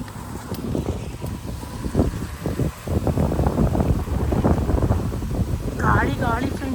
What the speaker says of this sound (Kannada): ಗಾಳಿ ಗಾಳಿ